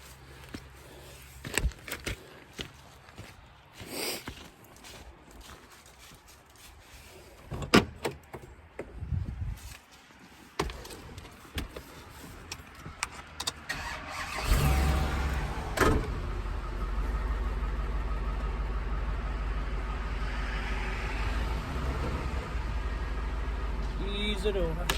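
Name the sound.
truck engine pulling a felled dead ash tree over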